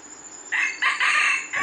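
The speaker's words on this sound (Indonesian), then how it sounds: "Kokok gagap sangat luar biasa merdunya" A wild red junglefowl rooster crows a stuttering, broken call outdoors near a decoy bird, moderately distant and fairly faint, in several short bursts with no one talking.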